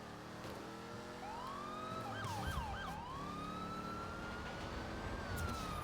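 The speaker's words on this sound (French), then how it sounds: "c'est vraiment, mais vraiment pas les mêmes sirènes" Wailing police sirens with rising and falling electronic tones, several overlapping, over steady traffic rumble in a busy street; no talking.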